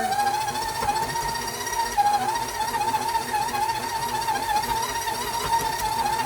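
KitchenAid stand mixer kneading pepperoni bread dough, a steady motor whir with a constant pitched hum and a faint rhythmic knock, running continuously at close range without talk.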